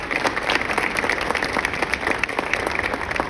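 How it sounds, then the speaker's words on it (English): Crowd applause at a metro hall of fame induction ceremony, a continuous dense patter of many hands at moderate distance, steady throughout with no talking. "Please give her a hand."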